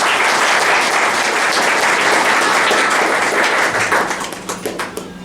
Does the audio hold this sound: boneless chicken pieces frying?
no